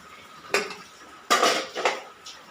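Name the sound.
kadai pan placed on the stove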